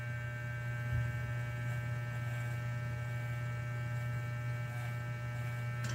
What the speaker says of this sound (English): This trimmer is sharp too.